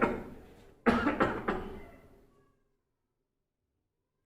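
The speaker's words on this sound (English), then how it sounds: "This is coughing." A person coughs three or four times in a quick, harsh cluster close up, the coughs trailing off into silence.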